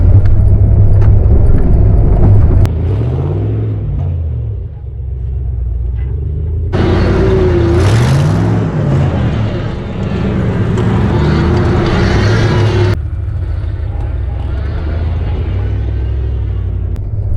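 A Jeep Grand Cherokee ZJ with a V8 and a swapped-in manual transmission drives along with a loud, steady engine rumble and road roar, swelling as revs rise and settling as it cruises.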